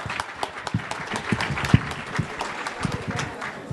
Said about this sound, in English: Loud round of applause for yourself before we start the raffle.